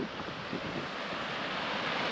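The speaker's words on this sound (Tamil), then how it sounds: "தண்ணி செமையாக ஓடிட்டுருக்கு" Waterfall water rushing and flowing steadily at falls near Chinnamanur, a loud, close, continuous broadband wash with no pauses and no talking.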